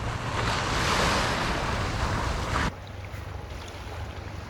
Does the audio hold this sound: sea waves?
yes